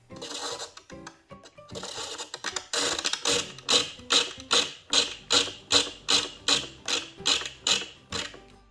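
Blade shaping a spinning wooden hurdy-gurdy wheel that is not perfectly round, giving a close rhythmic scraping, irregular at first, then settling into a steady pulse of evenly spaced scrapes, one per turn.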